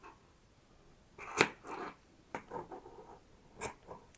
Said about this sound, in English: we're going to take our scissors and I'm going to try and cut it about the same length across